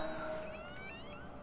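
A house cat lets out one drawn-out meow with a rising, wavering pitch, fairly close, over a steady electronic hum and background noise.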